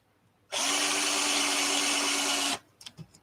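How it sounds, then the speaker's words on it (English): A power drill whines steadily at high speed for about two seconds, drilling through an amplifier heat sink, loud and close, then stops abruptly, followed by a few faint clicks and taps. "find a place in the heat sink and the amp where I can drill all the way through"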